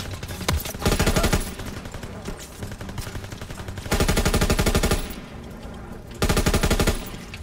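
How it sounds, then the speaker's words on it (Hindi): Machine gun fire in the video game Call of Duty WWII comes in three loud, rapid bursts separated by quieter gaps, each burst a dense rattle of shots lasting about a second. "और ये रैम्बो की गन में गोलियाँ भी बहुत कम"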